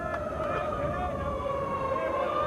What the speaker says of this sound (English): our first siren of the year